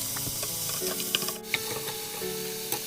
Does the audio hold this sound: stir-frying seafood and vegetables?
yes